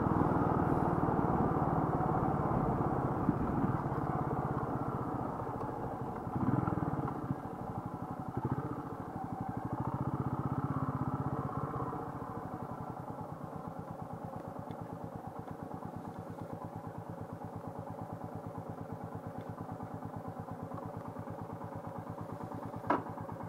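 A Royal Enfield Meteor 350 motorcycle engine hums steadily at low speed, a loud, even drone that settles into a rhythmic idle-like thrum toward the end.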